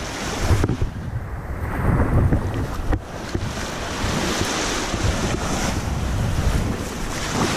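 Ocean waves wash and splash along the shore with wind buffeting the microphone, a loud, continuous surging roar with rising and falling swells.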